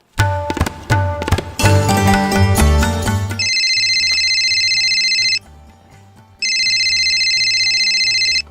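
After a few seconds of music, a phone's electronic ringtone trills in two loud repeating bursts separated by a brief pause, close by.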